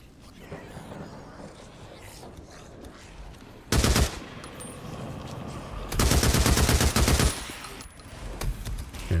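MG55 machine gun fire in the Days Gone video game, two loud automatic bursts, a short one near the middle and a longer one after, over quieter ambient game noise with scattered distant shots.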